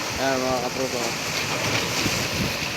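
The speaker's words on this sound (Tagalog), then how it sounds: "pumuputok yung mga alon" Rough sea waves surge and break steadily with heavy wind buffeting the microphone beside a seaside corniche in Dammam. Someone speaks briefly over the continuous roar.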